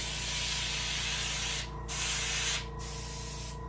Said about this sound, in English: If you want to add more red to your fins, you can spray it right on there